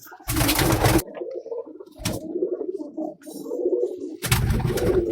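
Pigeons coo in low, murmuring tones, broken by a few loud bursts of rustling or flapping, close by.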